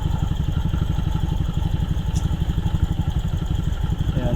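A Honda GY6 scooter engine idles close by with a steady, loud, even putter and a light mechanical clatter, holding an unbroken rhythm with no revving.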